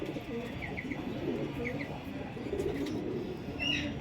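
A pigeon, a female being shown off, coos softly amid chirping birds nearby, with short repeated calls over a busy rumbling background and some talk in the mix.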